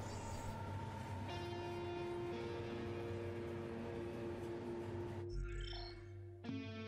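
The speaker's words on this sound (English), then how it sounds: "Noctis is free to roam about the train until it pulls into the station." A train from the game Final Fantasy XV rolls toward a station with a continuous rumbling clatter and sustained tonal hum, a high whine rising partway through, then a brief shift in tone near the end; no talking.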